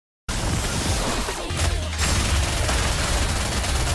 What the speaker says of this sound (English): Is it me or does it sound like an MG a little bit?